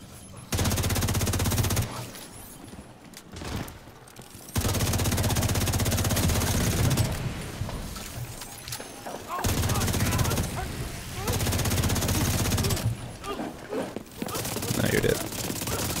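Heavy automatic gunfire in the video game The Division 2 at an invaded Capitol Building, loud sustained bursts separated by short pauses, with voices talking between and over the shooting.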